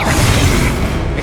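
An Incendiary spell blast in Hogwarts Legacy, a loud, dense booming roar that fills the whole short moment without a break.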